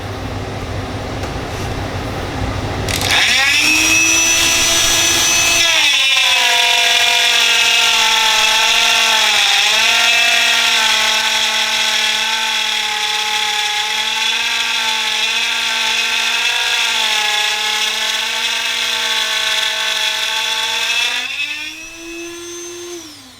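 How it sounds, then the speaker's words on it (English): A Dremel rotary tool fitted with a plunge router attachment routes wood. It spins up with a rising whine, then holds a loud, steady high-pitched tone with slight wavers for about fifteen seconds before winding down. "Now we plug our router in, or our Dremel."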